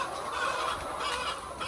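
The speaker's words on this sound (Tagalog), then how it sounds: "Check natin guys yung ating mga manok sa taas." Chickens cluck and squawk in a dense, continuous flock chorus under heavy rain, a busy mid-distance fowl noise with overlapping calls.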